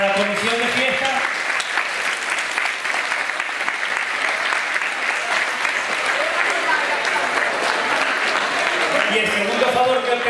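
Audience applause for the festival committee at the Ojén fair lunch for the elderly, a steady loud wash of clapping for about ten seconds, with a voice talking briefly at the start and again at the end.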